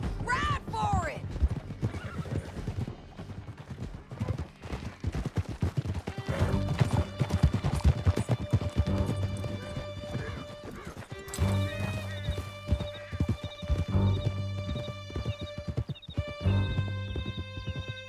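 Horses gallop hard in Red Dead Redemption II, hooves pounding in a fast, dense clatter close by, with loud neighs and whinnies breaking through, under voices and a swelling music score.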